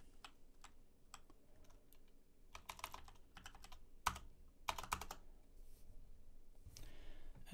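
Keys clatter on a computer keyboard as a command is entered into a JupyterLab notebook: bursts of light, quick clicks with short pauses, close and quiet, with no voice.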